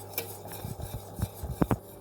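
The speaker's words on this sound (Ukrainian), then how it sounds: "Ставлю кастрюльку на середній вогонь і розмішую, весь час помішую до закипання." A spoon stirs milk in a small saucepan over medium heat, giving faint scrapes and a few soft metallic clinks at an uneven rhythm, with no talking.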